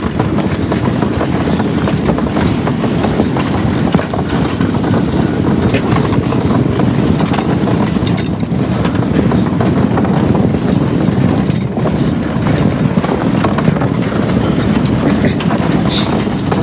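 Draft horses working in the woods on a logging job, a dense, steady clatter of movement and hoof noise running continuously at even loudness, with no voices over it.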